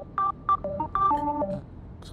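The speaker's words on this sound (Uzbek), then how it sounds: "Telefon." A telephone in an Uzbek film scene rings with a short run of electronic tones, several clear beeps at shifting pitches over about two seconds, fairly close, with no talking.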